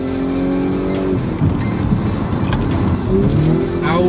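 An Audi S5 Coupe drives hard with tires squealing, its engine revving under brief screeches that rise and fall across a few seconds, close and loud, with no talk.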